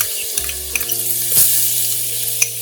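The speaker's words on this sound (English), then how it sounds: "My oil is hot now, and next I'm going to add in the chopped garlic to it." Chopped garlic dropped into hot white oil in a rice cooker, a loud, steady close sizzle and fry with a brief stirring scrape partway through.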